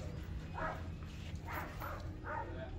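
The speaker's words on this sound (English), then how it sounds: "I hear doggies barking." Faint, distant barking from a few dogs inside a thrift store, in short separate bursts, over a low indoor hum.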